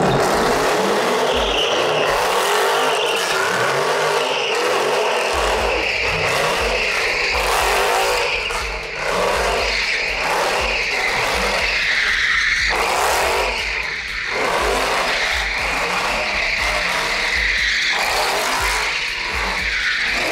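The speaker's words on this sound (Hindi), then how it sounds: "आप लोगों को नुमान का डोनट दिखाता ह" A Mercedes-AMG C63 or E63 spins donuts around cones, tires squealing and skidding continuously over a revving engine, loud and close throughout.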